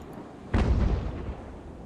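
A cannon shot booms from a sailing warship in an Age of Sail naval battle game, a single sharp blast with a rumbling tail that slowly fades.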